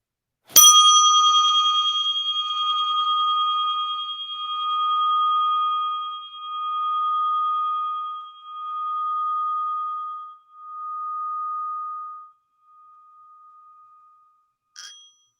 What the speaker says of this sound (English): by just placing your attention on this Tibetan bell